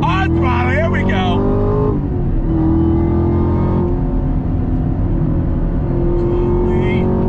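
A 2021 Chevrolet Camaro ZL1 1LE muscle car accelerates hard on a race track, its engine a loud sustained roar that climbs in pitch, drops briefly at a shift, then pulls again, with someone talking over it.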